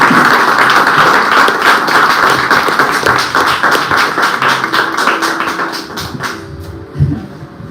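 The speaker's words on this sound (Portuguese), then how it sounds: "Você pode receber com palmas ao Senhor Jesus." A church congregation claps in praise, a loud, rhythmic, steady beat of many hands in unison that slows and stops near the end, followed by a brief thump.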